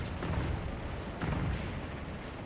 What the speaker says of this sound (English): Yeah, those are funny cannon sounds.